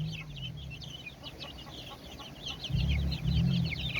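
Brahma chickens clucking at feeding time over a lunch of vegetables and apple, with busy close clucks and chatter throughout and deeper low calls swelling in the last second and a half.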